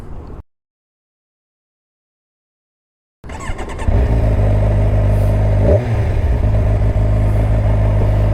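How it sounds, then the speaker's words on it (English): A warm Kawasaki Ninja 1000SX inline-four starts up after a short silence, then holds a loud, close, steady rev with one brief dip and swell partway through. "It's already warm, so no problem in revving the engine. The inline 4 sound, man, what a beauty."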